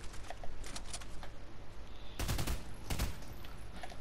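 Assault rifle fire in a video game, rapid bursts of shots with a dense volley in the second half, fairly loud over a steady background.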